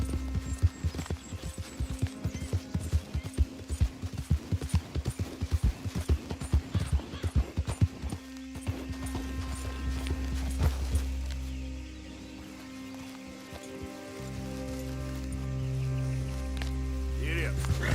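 A horse's hooves gallop in Red Dead Redemption 2, giving a rapid, rhythmic thudding for about eight seconds that then gives way to a steadier rushing ambience, with a person talking over it.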